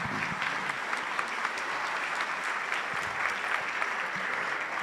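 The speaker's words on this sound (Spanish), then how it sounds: "Más que merecido este aplauso para el maestro José Antonio del Pino Fernández" An audience applauds a Cuban educator after a keynote lecture on the Cuban model of education, sustained even clapping from many hands in a hall, steady in level and without talk.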